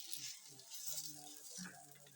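Cooking oil sizzles faintly in a pan while chapati is being made in a Kenyan village kitchen, a soft, steady frying hiss with a few light crackles and no talking.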